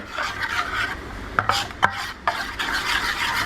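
A utensil stirs besan and rice flour dosa batter in a bowl, giving a close, soft rasping swirl broken by a few sharper scrapes against the side.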